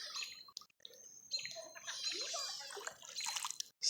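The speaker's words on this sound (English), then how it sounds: "we hear beautiful chirping of birds in nature" Birds chirp and tweet in nature at a state park during a kayaking outing, faint and high-pitched, mixed with soft water trickling and dripping nearby, no talking.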